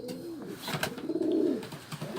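Tajik pigeons in Dushanbe coo softly nearby, one drawn-out rolling coo in the middle over light rustling and background murmur.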